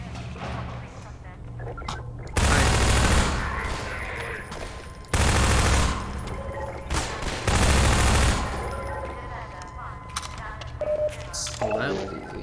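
Mounted gun firing in Half-Life 2, loud bursts of rapid automatic fire in three clusters between quieter stretches of game ambience, with a voice talking over it.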